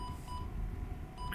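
Short electronic beeps sound inside a space station in a space survival video game, a few thin tones repeating at a steady pace over a low hum of machinery.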